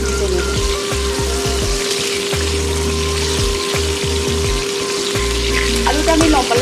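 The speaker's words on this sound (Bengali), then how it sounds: "আলুটা আমি ভালো করে ভেজে নেব।" Salted potatoes cut into thick long pieces fry in hot oil for Bhola fish curry, with a loud continuous sizzle and bubbling, close up, plus a steady low hum and occasional clatter underneath.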